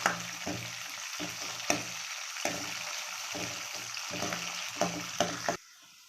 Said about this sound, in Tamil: நெய் சூடானுச்சு. இப்போ அதெல்லாம் போட்டுடலாம். நட்ஸ் எல்லாம் நல்லா வணக்கிடலாம்.